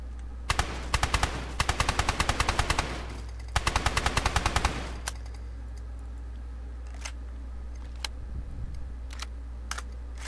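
Automatic gunfire from a magazine in the survival game DayZ: two long rapid bursts of close, loud shots, followed by a few scattered single shots over quiet ambience.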